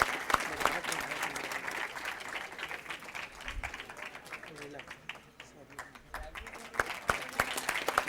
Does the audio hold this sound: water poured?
no